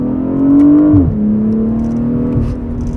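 A BMW 840i Gran Coupe engine revs close up in Sport mode with manual shifting, a steady drone that rises, then drops sharply at a gearshift before settling into a lower, even pull.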